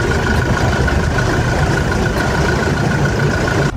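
A 2019 Toyota Innova Reborn diesel with automatic transmission idles with a steady, close, moderately loud engine drone that holds evenly for a few seconds before a brief drop at the end.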